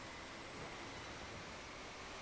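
Jet engine of a jet-powered bike racing in Project Gotham Racing 4, a steady, dense broadband roar with a thin high whine held close and loud throughout, no voices.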